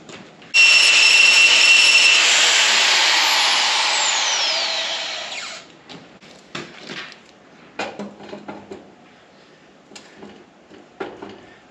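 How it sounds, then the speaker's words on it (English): An angle grinder smooths and rounds a bent metal corner for a cattle loading alley, a loud whining grind lasting several seconds that winds down, followed by scattered metallic knocks and clatter. "tune this up with the grinder a little bit"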